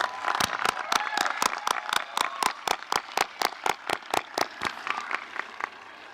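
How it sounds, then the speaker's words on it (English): An audience at the 2023 Chicopee High School graduation ceremony claps for school staff in a fast, even, rhythmic beat, sharp regular claps over a soft crowd murmur, moderately distant. "So applaud these individuals too"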